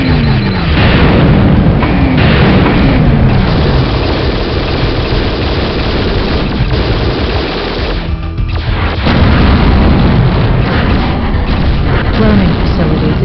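Repeated heavy booms and rumbling blasts as facilities are destroyed in the video game Hellbender, loud and continuous with engine drone underneath, and a short quieter gap midway before the explosions resume.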